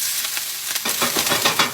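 Olive oil in a hot pan crackling and sizzling up close, quieter at first then swelling into a busier spitting sizzle after the first moment.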